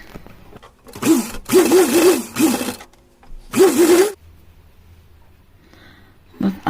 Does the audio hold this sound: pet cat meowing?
no